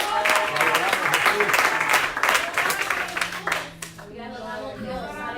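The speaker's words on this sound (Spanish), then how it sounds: "Un aplauso al Señor." Church congregation applauding during a worship service, a crowd of hands clapping with voices mixed in, fading out toward the end into quieter sound.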